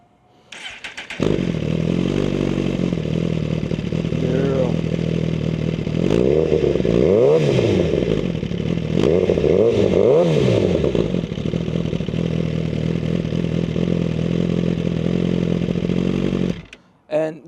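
A tuned 2023 Suzuki GSX-R1000R sport motorcycle engine cranks and fires up, then idles with a loud, rough rumble and a couple of revs before cutting off.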